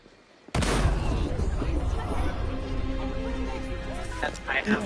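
A loud burst of gunfire and booming cannon blasts in Assassin's Creed Black Flag, starting abruptly and holding as a dense, sustained barrage with voices shouting over it.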